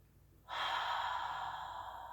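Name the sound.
deep breathing exhale during a yoga twist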